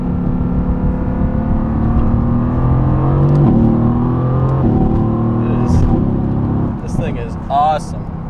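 Mercedes-AMG GT C engine droning loudly from inside the cabin as the car heads into a corner, the note shifting through revs with a brief lift and surge, while a driver talks over it.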